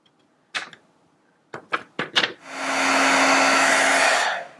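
A heat tool melting white embossing powder on vellum: a few sharp clicks and taps, then a steady loud blowing whir that holds for about two seconds close up before cutting off.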